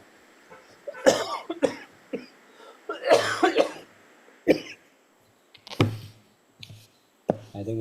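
Several separate coughs, some in quick pairs, spaced across quiet pauses, fairly close and moderately loud.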